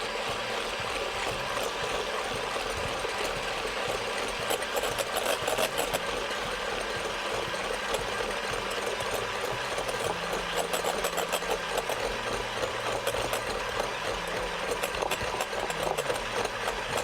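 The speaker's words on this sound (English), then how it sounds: "Now using an electric hand mixer, let's beat these egg whites until they're nice and frothy." Steady, continuous whirring of an electric hand mixer beating egg whites for masala snickerdoodles, droning at an even level with slight pitch shifts throughout and no voices.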